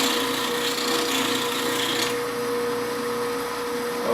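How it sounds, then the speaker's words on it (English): Bench grinder wheel running steadily while a woodturning tool's bevel is pressed against it, a constant high whine with a rasping, grinding scrape that lasts throughout and eases slightly after two seconds. "take it up to the wheel, turn the wheel on, and go ahead and put that bevel on"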